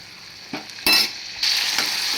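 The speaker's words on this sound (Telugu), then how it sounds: "ఆ రసం పోసేసుకుందాం" Tamarind juice hits a pan of cooking tomatoes with a sudden loud hiss, first a brief splash, then a rising steady sizzle that continues close up.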